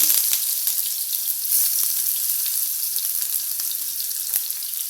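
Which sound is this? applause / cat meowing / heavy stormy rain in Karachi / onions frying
onions frying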